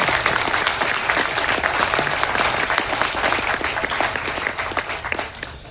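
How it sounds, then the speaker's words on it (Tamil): Hall audience at a Tamil film audio launch for Maanbhumigu Parai gives sustained, loud applause to the speaker's father, a thick steady clatter of many hands that eases slightly toward the end. "இந்த அரங்கமே அதுல மாதிரி அப்பாவுக்கு பலத்த கரகோஷம் கொடுங்க"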